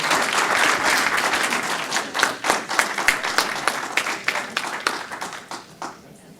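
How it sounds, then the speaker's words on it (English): Audience at a school board meeting applauding the school directors, a close, full burst of clapping that thins into separate claps and fades out near the end. "I ask that everybody here please give the school directors a round of applause."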